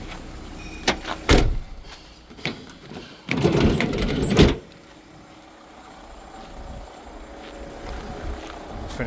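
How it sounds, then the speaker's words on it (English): Car glove box lid opening and closing with a rattly plastic clatter, two close bursts of knocks and rattles followed by quiet interior hum. "Glove box opens and closes, but it is a bit rattly doing so."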